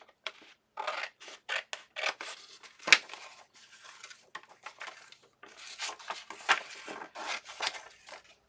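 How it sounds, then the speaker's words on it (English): Scissors snip repeatedly through paper to trim a junk journal pocket, a close series of short crisp cuts in an irregular rhythm with brief pauses, heard alone without talking. "So let me trim this without cutting my pocket."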